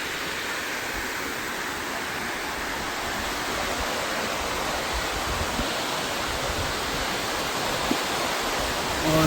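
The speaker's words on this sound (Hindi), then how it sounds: "यहाँ से स्पिलवे निकला है, इसका पानी यहाँ इस नाले में से गुज़रता हुआ" Water rushes over the spillway of a small dam in the Gujar Khan area of Rawalpindi, a dense, steady roar that fills the whole span with no talk.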